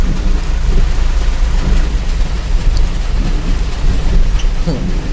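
Heavy rain pours steadily with low rumbling thunder while driving on a road trip from Chennai toward Telangana, a loud dense wash of noise throughout with no break and no talk.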